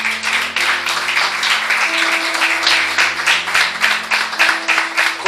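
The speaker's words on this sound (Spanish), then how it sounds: "Dar un aplauso al Señor." A church congregation breaks into sustained applause during a service, a dense, loud patter of many hands clapping throughout.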